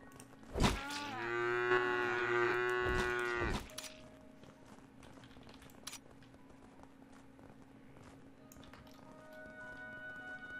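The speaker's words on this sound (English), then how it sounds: "these cows aren't hopping on to breed" Cows in the video game Craftopia: one long, loud, drawn-out moo near the start, then quieter farm ambience with faint shuffling and small in-game noises.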